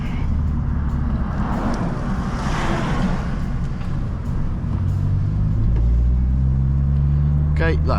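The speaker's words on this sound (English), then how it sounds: "We're gonna go into second, we're gonna rev it, and we're gonna hit it" A manual car engine revs during a downshift into second gear. The cabin rumble grows louder and deeper toward the end, with some voice in the car.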